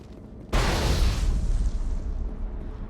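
A grenade blast in the video game Mass Effect erupts suddenly as a loud, deep boom that rolls off into a long fading rumble.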